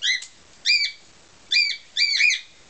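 Lutino pearl cockatiel chirping at home: four bright, clear whistled chirps in short bursts, close and fairly loud, with quiet pauses between them.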